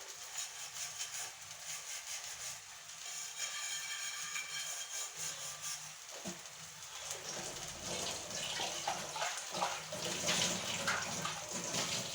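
Tap water runs in a steady, soft stream to make tea, gushing continuously without pauses and with no voices.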